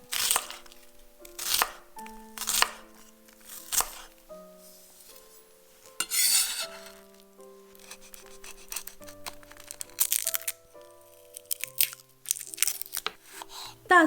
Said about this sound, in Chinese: 洋葱切成细条